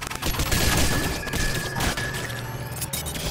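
Rapid gunfire from the video game Rounds crackles in a dense, loud fusillade of overlapping shots and impacts that runs throughout.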